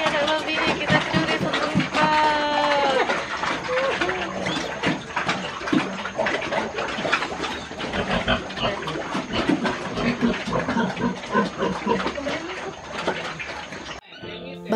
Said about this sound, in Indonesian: Babi baru lahiran tuh ternyata kayak gini nih. Suaranya meninggi, takut anaknya direbut.